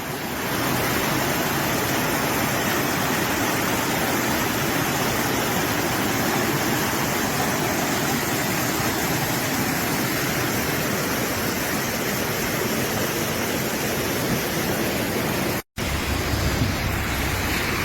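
Floodwater from heavy rain in Trinidad rushes past in a loud, continuous broadband roar close to the microphone, broken by one brief dropout near the end.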